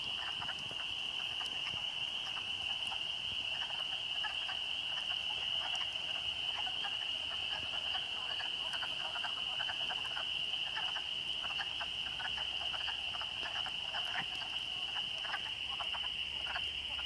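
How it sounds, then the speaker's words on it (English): Dozens of wood frogs call together at a vernal pool in rain, a dense overlapping chorus of short clucking croaks over a steady high insect-like whine and soft patter, continuous and moderately quiet. "So there are dozens of wood frogs."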